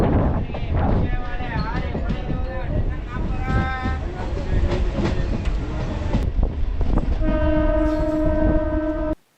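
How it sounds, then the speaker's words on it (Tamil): A MEMU passenger train clatters and squeals as it slows at Arakkonam Junction, brakes screeching with tonal whines, ending with a sustained horn-like tone before cutting off; faint voices mixed in. "ட்ரெயின் இப்போ நிற்கிறது"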